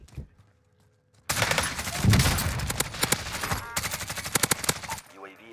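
Rapid bursts of automatic gunfire crackle through a video game shootout, loud and dense for several seconds after a quiet opening, with a short pause midway and faint voices underneath.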